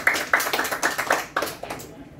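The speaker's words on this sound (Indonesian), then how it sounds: "Tepuk tangan dulu buat Pak Ujang" An audience at an anti-corruption outreach session claps for a participant, a short burst of scattered hand claps that thins out and stops after about two seconds.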